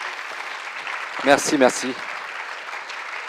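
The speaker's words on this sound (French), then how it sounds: "vous pouvez les applaudir tous les deux" An audience at a sports panel event applauds two speakers. Steady clapping runs throughout, while a nearby voice briefly speaks over it near the middle.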